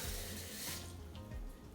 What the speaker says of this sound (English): the trick is really just to fill up the bowl with some water. I'm just using cool sink water here.